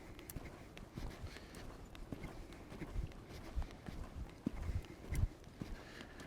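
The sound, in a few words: horse cantering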